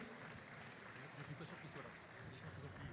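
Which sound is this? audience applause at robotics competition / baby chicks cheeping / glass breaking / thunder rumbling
audience applause at robotics competition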